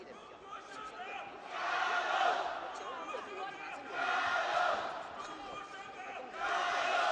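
At the Sanda World Cup finals, the home arena crowd cheers in rising and falling waves, swelling loudly several times while a commentator talks over the noise.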